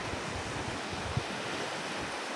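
Sea surf breaking on the shore where a freshwater stream meets the salt sea at Alibagon, Cajidiocan, Romblon, a steady low wash of waves with wind rumble on the microphone, fairly constant and unbroken, with no voices.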